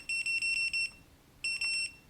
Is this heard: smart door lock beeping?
yes